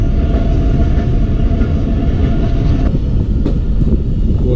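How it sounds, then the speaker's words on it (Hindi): A loud, steady rumble of a Pakistan Railways passenger train rolling along rails near Bostan Junction, heard from inside, with low droning noise and occasional faint clanks. "डिपार्ट हो गई हमारी ट्रेन।"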